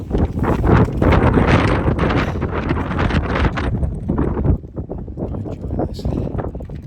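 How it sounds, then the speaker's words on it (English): Strong wind on an exposed Appalachian Trail ridge near Madison Hut buffets the microphone in loud, continuous gusts that ease slightly toward the end, while a person speaks. "very windy"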